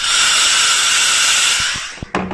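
A Cimex Eradicator steam cleaner blasts a loud, steady hissing steam jet for about two seconds, then cuts off, leaving a few short clicks and knocks near the end.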